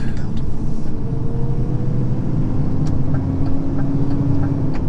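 An HGV truck hauling a heavy load of 182 pallets on a warm day drives along with a steady, loud engine drone and rumble, the tone shifting slightly as it runs, with no talk over it.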